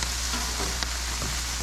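Food sizzles and crackles on a barbecue grill at a Fourth of July cookout, a steady frying hiss carried along with small pops and scrapes, close by and with no talk over it.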